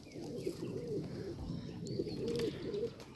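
Pigeons coo softly in low, rolling calls, a few repeated phrases close by against faint background rustle and distant chirps.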